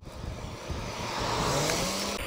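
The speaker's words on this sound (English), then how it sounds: "Most cars are good enough to move over." Cars pass on a rural Missouri road along a bicycle touring route, with a vehicle's engine and tire roar building steadily louder as it draws near, then cutting off.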